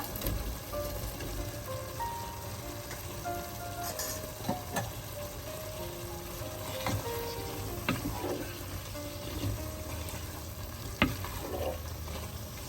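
Paneer and curd gravy for paneer biryani is stirred and simmers in a pan, giving a steady close bubbling sizzle with scraping stir strokes and a few sharper clicks throughout.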